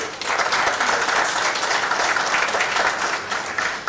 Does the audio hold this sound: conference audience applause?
yes